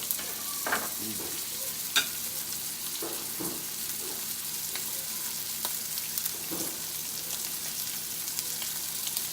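Butter sizzles steadily in a hot pan, a continuous crackling hiss with occasional soft pops and scraping stirs, close and even.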